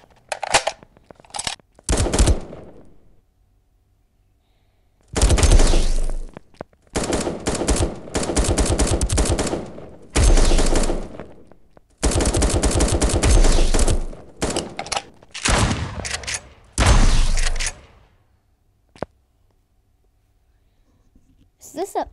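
Pump shotgun blasts from the online shooter game 1v1.LOL fire in a rapid series of loud, sharp bursts separated by short silences, with a few isolated clicks trailing off at the end.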